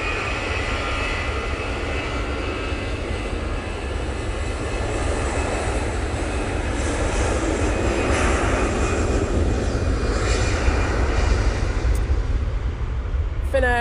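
Finnair Embraer jet at Manchester Airport, steady broadband engine roar with a faint whine that swells gradually, heard at a distance and continuous.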